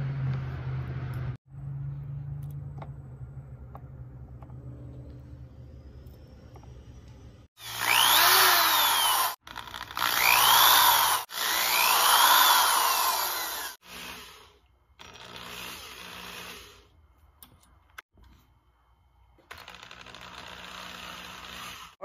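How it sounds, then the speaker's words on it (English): A power drill spins wire bent over a nail to twist line ties and hook hangers for a wooden swimbait, whirring in loud bursts that start and stop over quiet shop noise. "basically just putting the wire and bending it over the nail there and spinning it with the drill"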